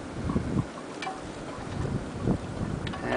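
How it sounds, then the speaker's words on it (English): Blizzard wind gusting up to 50 miles an hour with blowing snow and low visibility in 2010, a steady broadband roar with swelling gusts and buffeting against the microphone, fairly faint and with no voices. "currently the winds are gusting up to 50 miles an hour"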